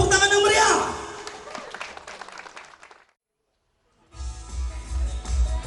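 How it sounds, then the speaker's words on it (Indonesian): Audience applause at a vocational school farewell and graduation ceremony, a crowd clapping loudly at first and fading into silence before a new burst of noise begins. "Tepuk tangan yang meriah"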